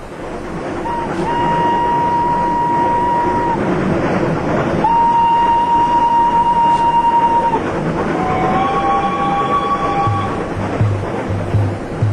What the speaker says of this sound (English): Jinnah took the train from Delhi.